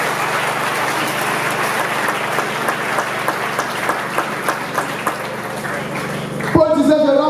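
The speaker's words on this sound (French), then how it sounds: "Put your hands together for the Lord." Church congregation applauding, dense continuous clapping with rhythmic accents throughout, ending abruptly as a sustained tonal sound, music or a voice, takes over.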